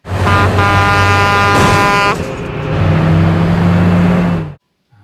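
A menacing truck from the film Duel roars close by while its air horn blares in a long loud blast, then the engine growls on alone before cutting off abruptly.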